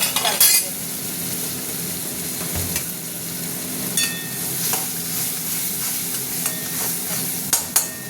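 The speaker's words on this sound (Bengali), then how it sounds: "মশলাটা কষার জন্য এই যে সিদ্ধ করা জল একটু দিয়ে দিলাম।" Spice paste frying in a pan for a Bengali dish of ash gourd with prawns, sizzling steadily with scraping stirs and occasional sharp utensil clinks against the pan.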